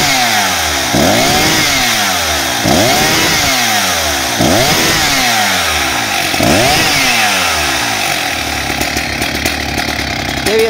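A Jonsered chainsaw engine idles with a loping, uneven rhythm, each surge rising and falling about every two seconds, loud and close, then settling into a rougher steady putter at the end.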